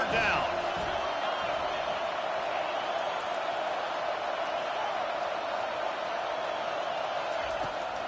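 A home crowd in the College Football 25 video game roars steadily as the defense tries to get off the field on third down, a dense continuous wall of cheering noise, with a commentator's voice over it.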